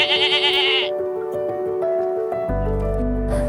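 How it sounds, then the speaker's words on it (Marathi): A goat gives a loud, wavering bleat at the start and another short one at the end, separated by sustained tonal notes that sound like background music. "आज आपण बकरी म्हणजे शेळी याच्याबद्दल बघणार आहोत."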